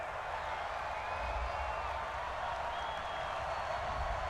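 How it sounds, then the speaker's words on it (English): A simulated home crowd in the NCAA Football 22 video game, at an Iowa vs Michigan Big 10 Championship, boos a referee's call as a steady, distant crowd roar with no commentary. "Some boos coming down right now from this home crowd after that call."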